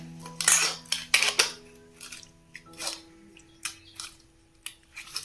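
Washed fish being rubbed with salt and turmeric by hand in a metal bowl, a few sharp clinks and scrapes in separate bursts with quiet wet handling between, close by.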